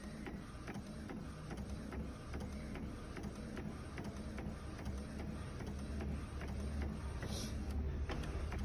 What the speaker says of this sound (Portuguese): É muito lento, gente, para imprimir.